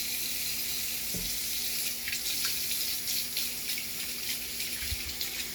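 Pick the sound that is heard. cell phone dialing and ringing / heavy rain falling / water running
water running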